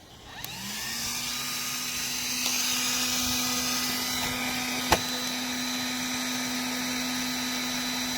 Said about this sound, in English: So now you can hear the game changer fan spooling it up.